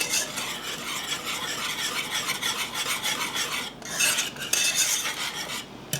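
A thickening lemon soufflé base being stirred in a pan, a steady raspy scraping of utensil against the pan bottom with a short break near the end, close and continuous without talking.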